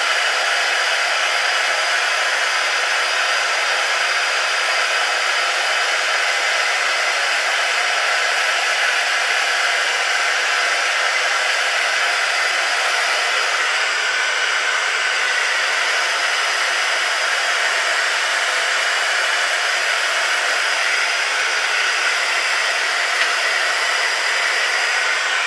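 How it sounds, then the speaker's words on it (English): A heat tool blows hot air steadily over a gift wallet card, a loud, constant close-up whoosh that runs unbroken with no talking. "We can turn our heat tool off."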